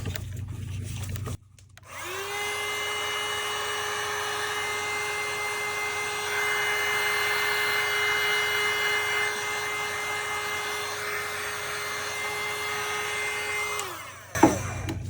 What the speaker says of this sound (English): get them through the vacuum chamber